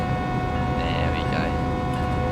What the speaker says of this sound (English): The engine sounds nice on here, though, doesn't it?